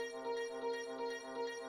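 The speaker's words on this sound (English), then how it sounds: "I just turned on something called an arpeggiator" A synthesizer arpeggiator steps through a held tone across octaves, giving a soft, quiet pulsing pattern over a steady sustained drone, with no voices.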